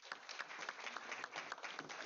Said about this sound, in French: je vais vous demander plein d'applaudissements pour Hervé